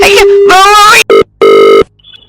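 An electronic ringtone plays loudly and close: a warbling melodic phrase, then two short bursts of tone separated by silence. No one speaks.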